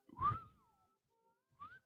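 A person whistles a short rising-and-falling tune with breathy onset, a brief bright phrase followed by a pause and a second short rising note, close and fairly quiet.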